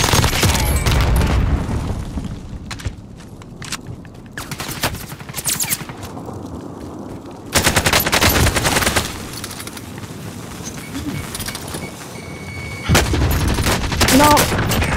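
Loud Call of Duty gunfire, with bursts of automatic fire and booms in heavy clusters at the start, around the middle and at the end, separated by quieter stretches with a voice speaking faintly underneath.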